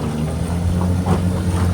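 An aluminum Springbok boat's outboard motor putts steadily along on choppy water, a low continuous drone with wind noise over it and no voices.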